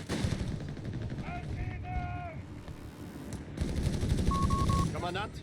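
Bursts of machine-gun fire and gunshots from grenadiers in the Company of Heroes 3 strategy game, rattling under a commentator's steady talk with some whistling game effects.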